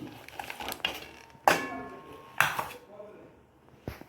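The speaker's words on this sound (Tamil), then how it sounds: "இப்போ நம்ம மூடியை திறந்து பார்ப்போம்" A metal lid is lifted off a cooking pot of green gram sweet, giving two sharp metallic clanks with lighter clinks of cookware in a quiet kitchen.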